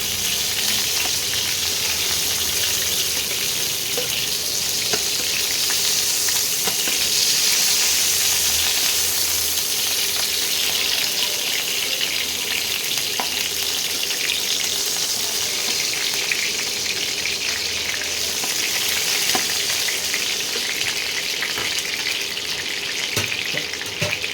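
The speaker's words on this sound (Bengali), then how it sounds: "বাকি মাংসগুলো এইভাবে ভেজে নেব।" Pieces of chicken meat fry steadily in a pan for a home-style green chicken dish, a loud, continuous close sizzle that holds evenly throughout with no talking.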